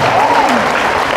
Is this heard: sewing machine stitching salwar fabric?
no